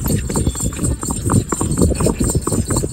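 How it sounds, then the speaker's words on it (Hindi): A horse walking in revaal gait clip-clops along a road, hooves striking in a quick steady rhythm, close and loud over rumbling outdoor noise with no voices. "उसके पैर की साउंड सुनो, कितना मस्त है और कितनी मिठास है।"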